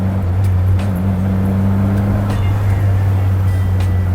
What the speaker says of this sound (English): So Ashraaq, how are you feeling driving the MG Midget Mk.IV?